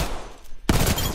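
Gunfire in a video game erupts suddenly after a quieter stretch, a dense loud burst of rapid shots, close and continuous to the end.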